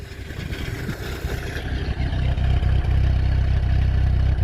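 Chrysler Aries wagon engine running while driving, a loud, close, steady low rumble that grows fuller partway through, with a slight misfire reported.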